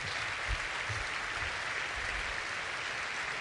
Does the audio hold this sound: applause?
yes